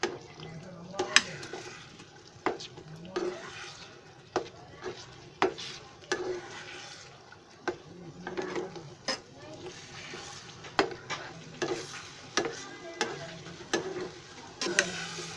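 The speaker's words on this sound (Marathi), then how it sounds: "हे असं हलवतच राहायचं शेवटपर्यंत, ते एकदम सुक्कं होईपर्यंत." Besan batter cooking in a pan for jhunka, stirred continuously, with repeated scraping and tapping strokes of the spoon against the pan over a faint sizzle, fairly quiet.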